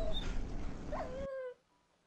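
A Minecraft dog lets out a thin, high whimper and a falling whine as it dies in lava, heard over steady game noise that cuts to near silence, the final whine trailing off faintly.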